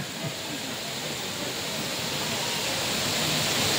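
A waterfall gives off a steady, dense broadband rush that grows slightly louder throughout, with no clear talking over it.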